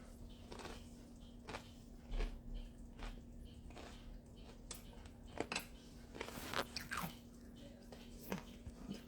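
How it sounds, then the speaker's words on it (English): Crunchy leftover fritter pieces being chewed, a string of irregular close crunches and bites spread over several seconds, fairly quiet, with a low steady hum underneath. "Crunchy leftovers of the fritter are really good."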